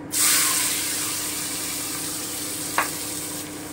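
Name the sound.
onion frying in oil with garam masala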